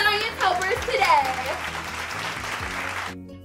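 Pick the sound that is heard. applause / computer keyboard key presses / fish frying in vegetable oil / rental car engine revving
applause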